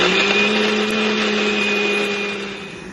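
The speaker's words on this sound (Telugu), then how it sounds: "సో ఇవి వేసి గ్రైండ్ చేసుకుందాం. మెత్తగా పేస్ట్ గ్రైండ్." A mixer grinder whirs steadily, grinding spices and coconut into a fine paste for a chicken fry; a close, continuous motor hum with a high whine that eases slightly toward the end, with no talking.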